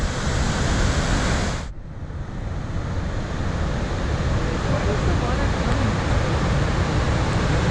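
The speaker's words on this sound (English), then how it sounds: "very nice waterfall. This is all sourced directly from the glacier" Glacial meltwater from the Mendenhall Glacier pours down a waterfall, a loud, continuous broadband rush close by, with a brief dip near the start before the roar resumes steadily.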